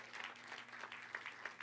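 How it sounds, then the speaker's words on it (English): An audience in a church applauds, a close, faint patter of many hands clapping steadily with no talk. "And you know, the applause"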